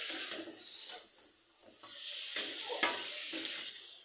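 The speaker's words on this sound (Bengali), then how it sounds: "সব আমার একসাথে ভাজি হয়ে যাবে ভাজিও হবে সাতলানো হয়ে যাবে" Egg curry ingredients sizzle and fry in a pan, a soft steady hiss with occasional stirring scrapes and small pops, fairly quiet and alone without speech.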